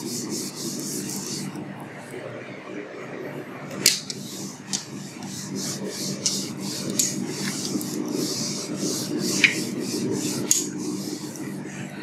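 Chalk rubbed off a green board, a steady scratchy rasp that carries on throughout with a few sharper taps and strokes, fairly close and moderately loud, with no voices.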